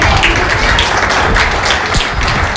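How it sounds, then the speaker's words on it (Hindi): Loud audience applause at an inaugural session, dense and close, with heavy continuous clapping and a few thumps through it. "कृपया जोरदार तालियों के साथ"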